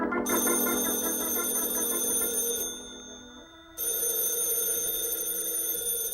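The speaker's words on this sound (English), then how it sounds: "I'm dialing his number right now." Old-fashioned telephone bell ringing as a radio comedy sound effect, a close, loud continuous rattling ring that pauses briefly and then resumes.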